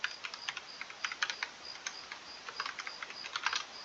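Fast, continuous typing of C++ code on a computer keyboard, dense light clicks in quick irregular runs, close and quiet with no voice.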